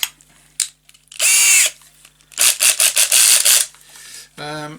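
Short bursts of a power drill whirring, several quick pulses in a row, with clicks and handling noises between them.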